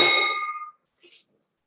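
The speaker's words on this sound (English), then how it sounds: "Okay, Lois, ring the bell." A bell rung at a Rotary Club of Oakland meeting: one bright, close strike that rings out and fades over about three quarters of a second, followed by a couple of faint, brief sounds in a quiet room.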